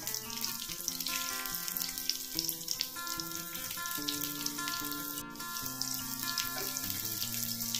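Stuffed okra set into a pan of hot oil over a high flame gives a soft, continuous sizzle and crackle, fairly quiet beneath background music.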